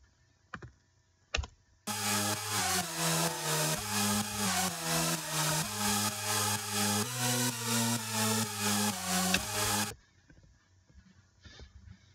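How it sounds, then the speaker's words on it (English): A bright, buzzy synthesizer plays a lead line, pulsing for several seconds after a couple of clicks, then stops abruptly. "the main core synth, which sounds like this."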